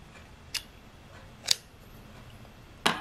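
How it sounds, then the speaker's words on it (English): Scissors snip off crocheted yarn ends on a watermelon bottle bag, three short, crisp cuts spaced about a second apart in a quiet room, the last a quick double snip. "And then you can just snip them."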